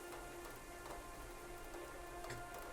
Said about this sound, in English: I love just chilling in the rain